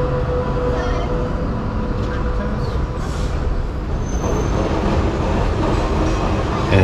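A W-class tram rolls along a Melbourne street, a steady loud rumble with rail clatter and traffic noise throughout, no voices.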